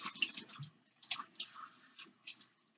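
Water from a faucet rinsing out the inside of a bell pepper, faint intermittent splashes and trickles in a few short bursts with no talk.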